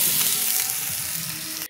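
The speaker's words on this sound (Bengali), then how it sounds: "আলু পটলটা ভাজতে বসিয়ে দিয়েছি।" Potato and pointed gourd frying together in hot oil, a steady, close sizzle with a continuous crackling hiss that holds evenly before cutting off abruptly.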